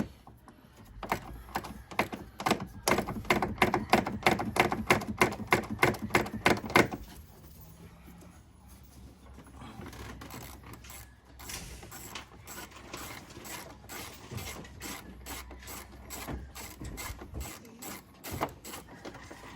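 A ratchet wrench loosening a bolt during a fan clutch replacement on a vehicle: a fast, even run of loud clicking for several seconds, then quieter irregular clicks and mechanical rattling as the bolt is worked free.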